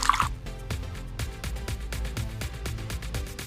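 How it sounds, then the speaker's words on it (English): Cool water poured into a Magic Mixies toy cauldron for its reveal, a close, steady stream with rhythmic gurgling pulses throughout. "So we need to put this in, then put the water."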